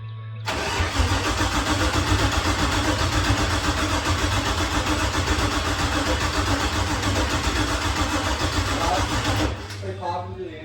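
An LS-swapped third-generation Camaro fires for the first time, cranking and catching into a loud, steady rumbling idle that runs for several seconds before cutting off, with people talking nearby.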